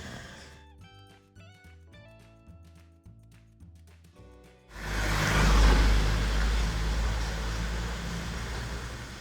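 Small cars pass along a Cornish road on the Lizard Peninsula: after a quiet stretch, a loud close vehicle rush swells abruptly and holds as a broad steady roar to the end.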